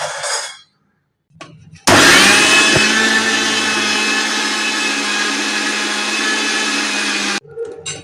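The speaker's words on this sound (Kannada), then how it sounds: "ಇವಾಗ ಇದನ್ನು ತರಿಯಾಗಿ ರುಬ್ಬಿದ್ರೆ ಆಯಿತು." Kitchen mixer grinder coarsely grinding chutney powder, starting abruptly and running as a loud, steady high-pitched whir for several seconds before cutting off, with brief handling clatter before and after.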